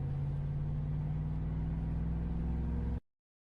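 A deep, steady engine drone hums continuously for a few seconds, low and throbbing, then cuts off abruptly into silence.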